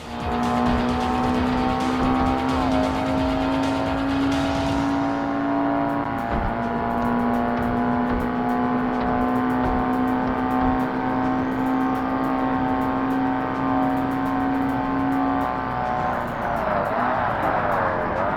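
A Porsche race car in the 2005 Forza Motorsport video game, its engine holding a loud sustained drone with shifts in pitch and some tyre squeal toward the end.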